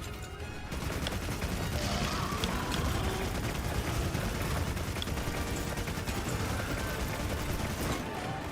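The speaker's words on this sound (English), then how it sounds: "I'm trying to shoot its tail." Rapid, continuous gunfire sounds as a ranged weapon fires at a monster's tail in Monster Hunter Wilds, a dense, loud barrage of shots sustained for several seconds over game ambience.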